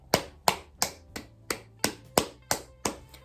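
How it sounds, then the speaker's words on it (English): A round of applause made of about nine sharp, evenly spaced claps in quick steady rhythm, close and clear, with no talking. "Round of applause for Nikki, please."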